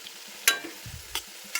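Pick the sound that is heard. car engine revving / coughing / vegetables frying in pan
vegetables frying in pan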